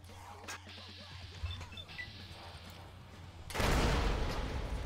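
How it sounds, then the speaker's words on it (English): A frag grenade goes off in Fallout: New Vegas, a loud broad blast near the end following a stretch of quieter scattered gunfire and game noise. "I'm frag grenading them."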